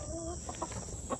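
Chickens cluck near a backyard black soldier fly bin, short soft clucks close by over a constant high insect-like hiss and low background rumble.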